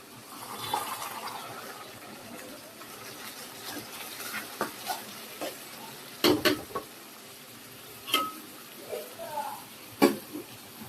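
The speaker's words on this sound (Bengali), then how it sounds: "তো পেঁয়াজটাকে এখন একটু ব্রাউন কালার করে ভেজে নিব।" Onions brown in oil in a home kitchen pan, giving a quiet, steady sizzle broken by several sharp scrapes and knocks as they are stirred.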